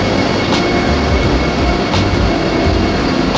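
Vande Bharat Express train at a station platform, a steady broad rumble and hiss with faint periodic ticks throughout, fairly loud and without talk.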